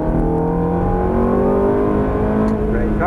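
An exotic sports car accelerates hard at full throttle on a driving course, its engine note rising steadily and loud from close by, with an instructor's voice over the roar.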